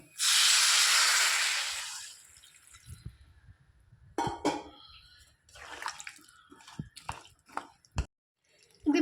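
Salted water poured into lubika (lovi-lovi) pickle, a loud steady hissing pour for about two seconds, then quiet drips, splashes and small clinks.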